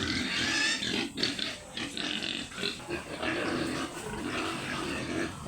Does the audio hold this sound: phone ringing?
no